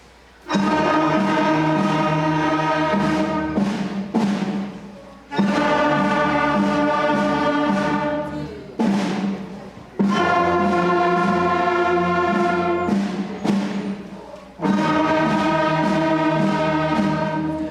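A beginning middle school band at a winter concert sounds its third note together, holding sustained brass and woodwind tones in several long blasts with short pauses between them.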